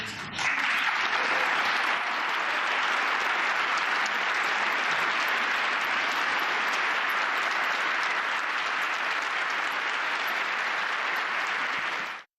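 An audience applauds steadily for about twelve seconds, a dense, even wash of clapping heard at a moderate distance that cuts off abruptly at the end.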